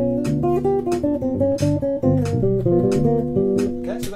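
A bass guitar runs through the blues scale, its deep plucked notes stepping up and down in a steady rhythm over a continuous backing groove, loud and close with no talk.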